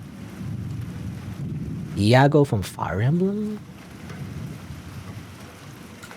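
Rain pouring fiercely on a street in the InSomno video game, a steady close wash of heavy rainfall that continues under a man's brief speech.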